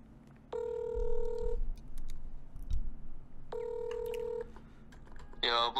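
Telephone keypad tones sound in two short bursts of dialing for a prank call, clear beeps separated by a pause, followed by a ringing tone, with faint background noise.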